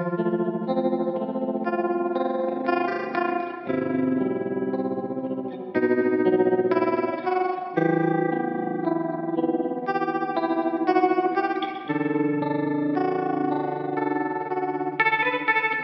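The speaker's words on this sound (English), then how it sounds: "One thing I always liked about the MF-102 ring modulator" A Moog MF-102 ring modulator effect pedal processes a melodic instrument line, giving metallic, inharmonic tones across a continuous phrase of shifting notes without speech.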